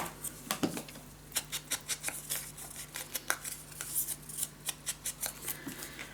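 Scissors snipping through paper while trimming pieces for a handmade blue gatefold scrapbook mini album, a steady series of sharp close cuts in a quiet room.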